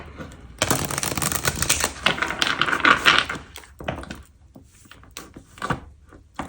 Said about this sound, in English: I cut the deck on this one and I'm taking it